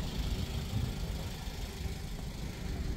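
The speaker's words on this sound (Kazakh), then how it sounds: "Моторный иштеш ушундай достор, өзүңөр уккандай." A car engine idles steadily at close range, a low, even rumble with a light mechanical hum and no revving across the whole stretch.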